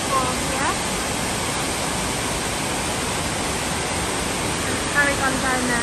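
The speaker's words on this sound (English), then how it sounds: "we've come to a big waterfall" A big waterfall in the Cameron Highlands roars as a loud, unbroken wall of rushing water, with faint voices surfacing briefly near the start and end.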